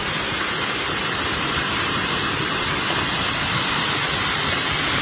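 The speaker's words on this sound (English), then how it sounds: "that's our waterfall" Steady, loud rushing water pours continuously, a dense broadband roar of a small waterfall flowing into a creek on the Hassen Creek Nature Trail, with no pauses or voices.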